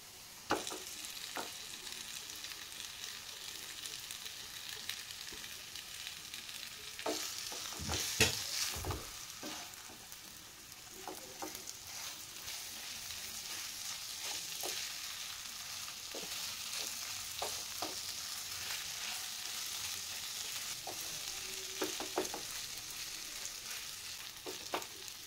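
Boiled potatoes stir-fried with spices in a home-kitchen pan for mini samosa filling, giving a steady soft sizzle with scraping stirs throughout and a few louder clattering strokes near the middle.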